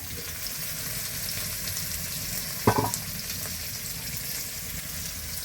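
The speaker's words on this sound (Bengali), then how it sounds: "শিম আলুটা ভাজছি দেখো।" Flat beans and potato fry in a pan with a steady, soft sizzle, broken once by a brief sharp clatter of stirring midway.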